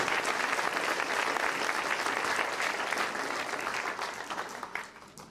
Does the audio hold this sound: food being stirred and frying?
no